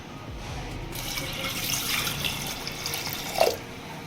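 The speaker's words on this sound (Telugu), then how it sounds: "పప్పులో నీళ్లు సరిపోను పోసాను" Water is poured into cooking lentils for a bachali (Malabar spinach) dal, a steady close-up stream that runs for a few seconds and ends with a brief splash.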